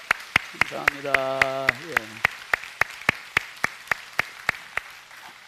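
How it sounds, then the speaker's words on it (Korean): A church congregation claps in steady rhythmic unison to welcome newcomers, sharp evenly spaced claps running throughout while a voice briefly speaks over them. "우리 박수로 환영하겠습니다."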